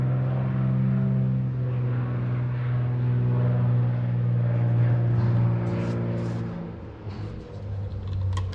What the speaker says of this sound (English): V-tail Bonanza landing.